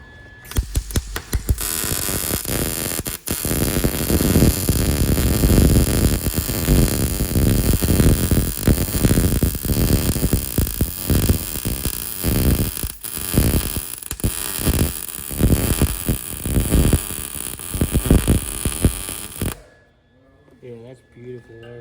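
Arc welder crackling and buzzing steadily while welding a shock mount in a body shop, loud and close with sputtering bursts for about twenty seconds before cutting off.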